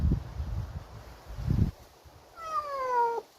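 A cat gives a single drawn-out meow near the end, after soft low rustling and handling noises.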